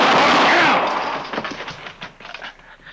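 Gunfire in an old-time Western radio drama: a loud initial blast with a dense burst of noise decays into a string of fainter cracks and ricochet-like pops scattered over the following seconds.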